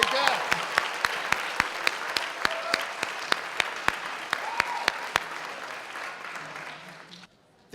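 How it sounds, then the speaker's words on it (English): Audience applause at a school neighborhood poster contest awards ceremony, steady dense clapping with sharp individual claps standing out, lasting about five seconds before tapering off into near silence. "Let's give everybody a round of applause and sit back down."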